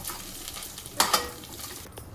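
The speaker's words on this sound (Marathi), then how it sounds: "आता पनीर तळून घेते" Paneer frying in hot oil for a vegetable biryani, with a steady soft sizzle and two brief sharper bursts near the middle as pieces drop in, then fading back to a low crackle.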